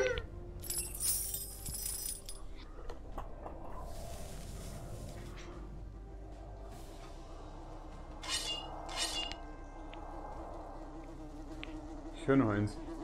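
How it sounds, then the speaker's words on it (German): Buzzing of flying insects in the game Karnage Chronicles, with scattered clicks and clinks and brief higher chirps over a steady low background. "fliegendes, untreffbares Ungeziefer."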